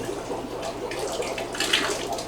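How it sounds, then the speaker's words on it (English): Water wrung from a wet aquarium filter sponge over a discus breeding tank, a soft, close splashing trickle that runs steadily for a couple of seconds. "give this a little squeeze so I don't drip water all over my room"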